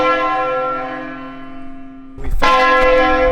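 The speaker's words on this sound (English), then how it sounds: "there's church bells ringing like crazy" Church bells ring in Albiolo, Italy, a sustained resonant tone decaying slowly before a fresh loud strike lands near the end, bright overtones ringing out close and clear.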